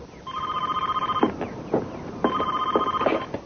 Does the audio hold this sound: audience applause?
no